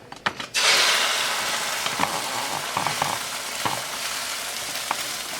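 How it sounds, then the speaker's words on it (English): Carnivore lasagna layers sizzle loudly in a hot frying pan, starting with a sharp burst as each goes in, then a steady crackling fry with occasional clinks and scrapes. "we're going to put our 3rd one in the frying pan"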